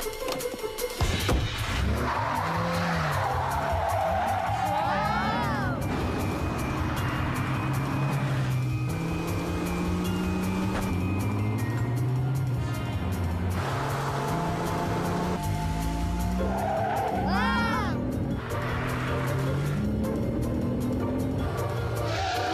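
A cartoon car chases a truck: an engine revs and shifts continuously, rising and falling in pitch, with a couple of sharp tire squeals breaking through the steady drone.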